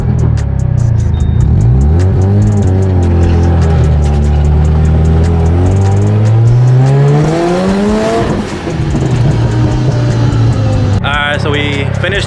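Stock-engine, stock-turbo Mazda RX7 rotary running loud and close, engine pitch climbing steadily through a long rev, briefly dropping, then rising again with a short flurry of sharp revs at the end.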